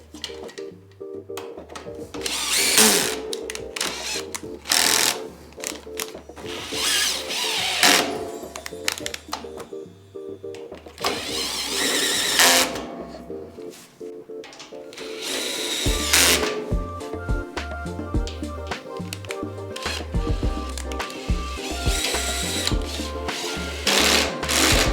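Power driver running bolts into the side panel of a Koda utility cart with a pull-out tray, in repeated whirring bursts with clicks and rattles between them, close by.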